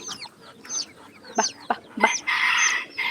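Chickens cluck in short, sharp bursts close by, a few calls in quick succession with a louder, scratchy cry near the end.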